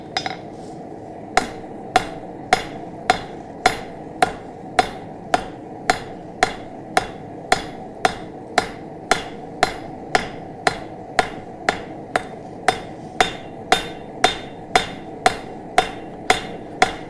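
Steady hammer blows on hot forged metal while smoothing a taper transition, about two strikes per second ringing sharply and evenly for the whole stretch, with no voices.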